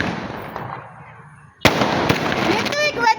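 Fireworks bursting outdoors, a sharp loud crack followed by a dense crackling shower and further pops, with a whistling trail near the end, after a quieter stretch of background murmur and voices.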